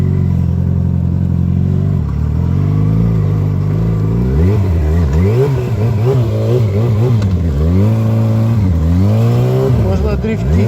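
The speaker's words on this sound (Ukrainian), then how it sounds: "тяжелый мотоцикл" A sport bike engine revs hard on snow, its pitch climbing and falling in repeated surges from steady idle into loud wavering throttle blips, close and continuous.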